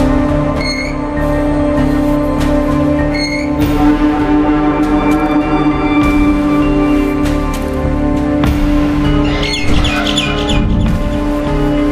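Birds chirp in short, bright bursts inside the Garten of Banban 6 horror game, scattered over a steady droning ambient hum that runs throughout, with a busier flurry of calls near the end.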